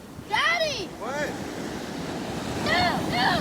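Huge ocean surf pounds a beach on a grunion hunt, making a steady roar with wind noise buffeting the microphone. Brief high voices rise and fall over the surf.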